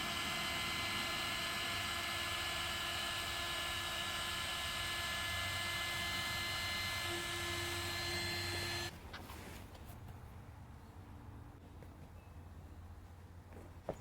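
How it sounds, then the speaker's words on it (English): A steady, loud mechanical whine with a constant hum runs nonstop for about nine seconds as an air pump inflates an inflatable pool boat, then cuts off abruptly, leaving a quieter background. "I'm gonna try and pump this up again."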